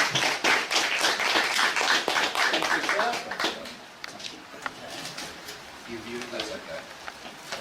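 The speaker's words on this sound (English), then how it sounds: "Give him a big round of applause, Mr. Graham Smith." Audience applause for a speaker at a book launch, a modest crowd clapping briskly at first, then thinning to a few scattered claps under faint murmuring.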